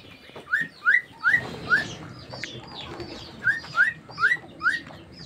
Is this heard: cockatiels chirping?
yes